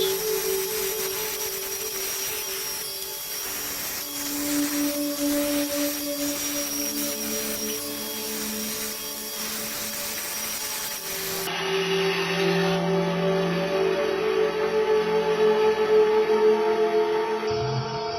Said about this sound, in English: Just using a bandsaw to cut out the bulk of the material, just leaving the apple.